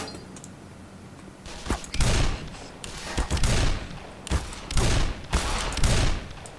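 Loud bursts of gunfire from the video game Black Mesa come in repeated volleys, several heavy rapid salvos with brief gaps between them.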